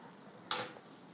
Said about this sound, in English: I tilt the pan